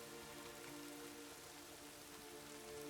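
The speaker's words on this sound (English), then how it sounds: "it's morning. 7 a.m. It's just raining." Rain falls steadily in The Witcher 3 video game, a soft, even patter on surfaces that stays faint and unbroken throughout, with no one talking.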